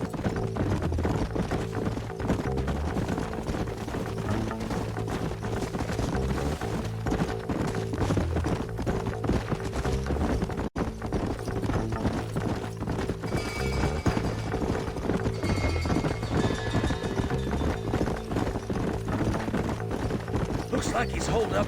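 Horse hoofbeats clop steadily in a Western open-world video game, a rhythmic trot running under game music and ambient sound, quiet in the mix, with brief voice lines in between.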